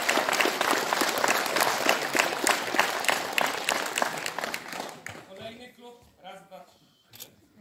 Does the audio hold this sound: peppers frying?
no